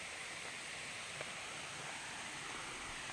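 Huai To waterfall pours as a soft, steady rush of water, faint and distant, continuous with no voices.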